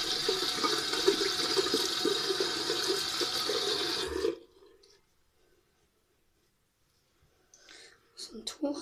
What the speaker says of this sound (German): Jetzt nochmal Hände waschen.